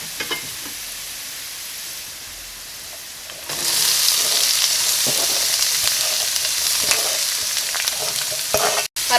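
Onions dropped into hot oil in a steel wok for an egg roast start sautéing, a quiet scraping stir giving way to a loud, steady close sizzle that holds to the end.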